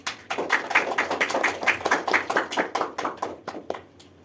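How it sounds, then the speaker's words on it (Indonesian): Classroom applause for a student, a run of sharp, irregular hand claps from a small group, moderately close, steady for several seconds before thinning out toward the end. "Berikan tepuk tangan lagi kepada Mbak Niken."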